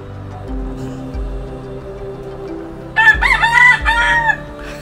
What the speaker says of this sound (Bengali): আমাদের অভ্যর্থনা করছে একটা এক পায়ে দাঁড়ানো মুরগি